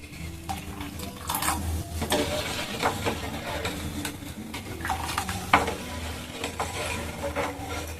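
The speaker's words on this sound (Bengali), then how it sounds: "এইভাবে আস্তে আস্তে করে হাতা দিয়ে একটুখানি নেড়ে" A ladle slowly stirs milk in a pot as vinegar mixed with water is added, producing soft scraping and swishing over a constant low rumble, with no talk.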